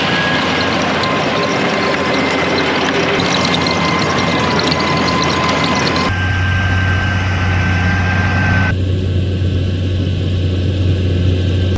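A 630 tractor engine running at a steady drone, loud and close, with a deep low hum that shifts in tone partway through as the sound changes abruptly twice.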